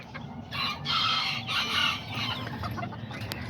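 Azteca roosters and hens on a farm, steady close clucking with a few louder squawks rising in the middle, no talk.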